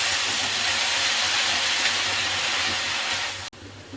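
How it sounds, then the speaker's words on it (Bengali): Pumpkin leaves and mung dal frying in ghee with a little refined oil give off a steady, strong sizzling hiss close by, which drops off sharply near the end. "ভাজা ভাজা করে নিতে হবে।"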